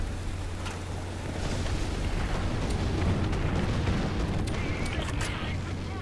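Artillery shells land in a War Thunder tank battle with an American M4A1 (76) medium tank, rumbling booms and bursts rolling one after another over a steady low engine drone.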